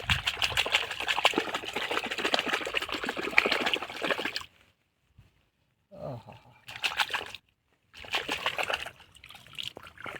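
Live crabs being washed in water from a creek, with sustained splashing and sloshing close by that stops abruptly, then returns in short bursts of trickling and splattering.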